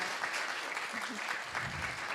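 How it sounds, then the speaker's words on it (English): Steady applause from a forum audience for a discussion panel at the end of a session, a continuous fairly soft patter of many hands clapping with no voice over it. "Big round of applause for the panel."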